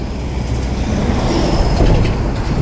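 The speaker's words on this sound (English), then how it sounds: "looks like one open hopper cart coupled to that train" A heavy freight train with hopper cars rumbles past at steady loudness, low grinding roar with faint rhythmic clatter of wagons rolling by.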